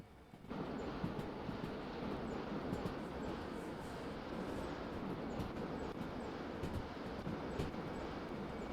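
A long train runs in the railway simulation game Derail Valley, producing a steady, dense rumble and roar that starts abruptly and holds constant for several seconds without speech.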